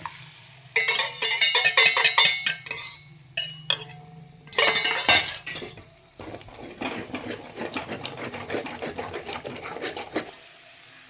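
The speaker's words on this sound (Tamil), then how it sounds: "முட்டை உடச்சி ஊற்றியாச்சு கிண்ணத்தில். பெப்பர் போட்டு அடிச்சிக்கலாம்." Eggs broken into a bowl with pepper are beaten hard, giving close, fast bursts of rattling clinks against the bowl that stop and start several times, with no talking.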